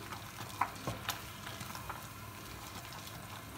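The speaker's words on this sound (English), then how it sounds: "And give it a good mix." A rich butter and cream mixture is stirred in a pan over low heat, giving a faint, soft sizzle with a few light utensil taps near the start.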